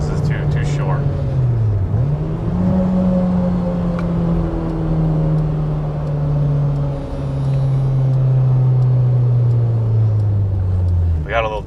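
A B18C-swapped 2000 Honda Civic Si with JDM ITR engine drives and revs, a loud close engine tone climbing and falling through gears over the full stretch, with a brief voice at the start.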